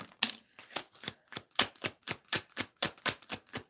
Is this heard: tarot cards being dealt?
yes